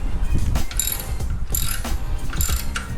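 A socket ratchet with an extension tightens exhaust bolts on a Harley-Davidson motorcycle, producing bursts of rapid close clicking strokes in an even rhythm with short pauses between turns.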